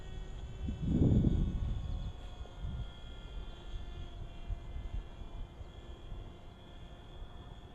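An E-flite Spitfire RC model airplane flies in toward the wind to land, its engine droning faintly at a distance with a brief louder pass early on, then a low steady hum fading away.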